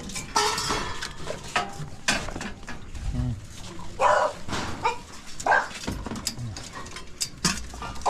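Several dogs barking after being let loose, repeated close barks and yips mixed with clattering and someone talking throughout.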